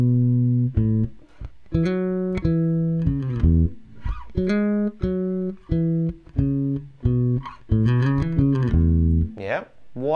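A melodic rock bass line on bass guitar, a series of distinct plucked and hammered notes with short gaps and some sliding pitch, close and clear, with a brief count-in voice at the start.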